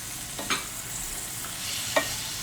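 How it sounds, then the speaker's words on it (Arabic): Onions are stirred as they fry in a pan, a constant close sizzle with two distinct spatula scrapes, one early and one near the end. "غنبقاو مستمرين التحريك ديال البصل ديالنا بهذا الشكل."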